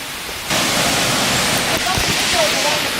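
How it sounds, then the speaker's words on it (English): A waterfall near Las Terrenas in the Dominican Republic rushes in a steady, loud broadband roar that swells in abruptly after half a second and holds without a break. "So that waterfall looks awesome."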